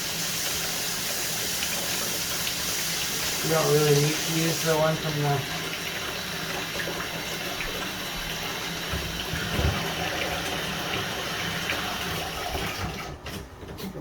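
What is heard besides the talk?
water running from bathroom sink tap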